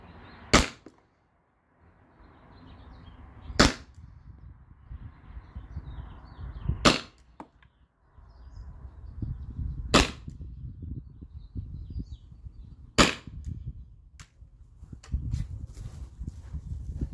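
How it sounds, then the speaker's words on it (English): Five sharp, loud pops from T4E rubber rounds fired out of a CO2-powered less-lethal launcher, spaced a few seconds apart over a low rumbling background with faint handling noise between shots. "So here's the shot 6 through 10 with the T4E rubber rounds."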